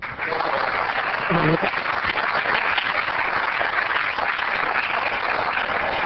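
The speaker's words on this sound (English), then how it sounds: "Let's help Rick celebrate with a round of applause" An audience at an Oceanside city council meeting claps in a steady, even roar that holds for several seconds, with a brief voice rising through it early on.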